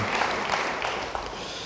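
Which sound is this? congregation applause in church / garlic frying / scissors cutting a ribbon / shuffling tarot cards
congregation applause in church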